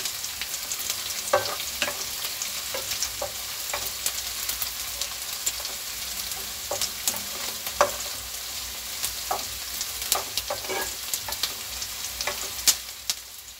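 Half a spoon of ajwain (carom seeds) browning in hot oil for chilli paneer gives a steady close sizzle, with scattered small pops and light crackles throughout and no voices.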